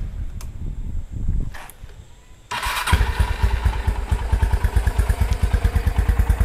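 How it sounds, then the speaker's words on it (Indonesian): A Honda GL100 motorcycle fitted with a Tiger engine cranks after a few quiet clicks, catches, and settles into a loud, close, steady idle with a rapid rhythmic putter. "kita coba untuk nyalain dari mesin sama kelistrikannya"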